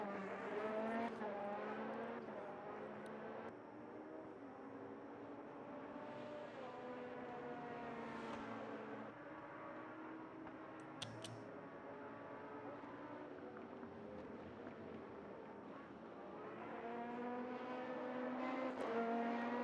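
An RC car in a Daytona endurance race buzzes with a high-revving engine, pitch sweeping up and down repeatedly and swelling louder toward the end as it closes in.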